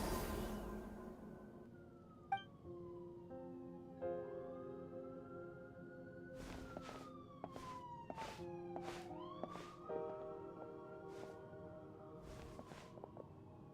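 Wailing emergency sirens in Genshin Impact rise and fall in long sweeping tones, mid-distance and fairly faint, layered over a quiet musical score with several sharp percussive hits.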